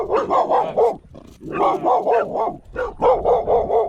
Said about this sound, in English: Pack of wild dogs.